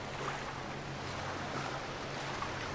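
Ocean waves in The Solus Project video game, a steady broad wash of surf and wind, even and continuous at moderate level with no other sounds.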